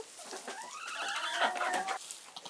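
Chickens cluck and squawk close by in a sequence of short rising and falling calls with a few soft rustles, alone and with no speech.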